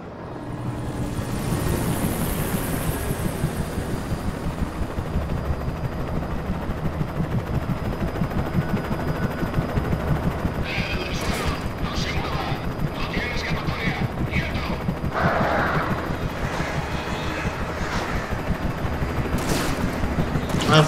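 In the Alan Wake video game, a helicopter's steady droning rotor roar runs throughout, joined in the second half by sharp bursts of rapid gunfire, with voices speaking over it.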